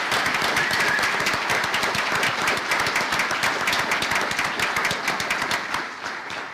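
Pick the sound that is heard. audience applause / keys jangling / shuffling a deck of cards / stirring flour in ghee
audience applause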